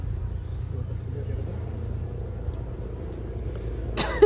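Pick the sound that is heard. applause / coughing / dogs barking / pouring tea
coughing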